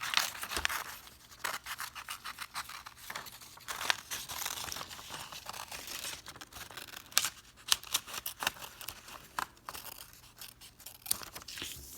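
Paper is cut with scissors to make flame shapes for a candle craft, giving close, continuous crinkling and rustling with repeated snipping clicks as the sheet is turned, with no talking.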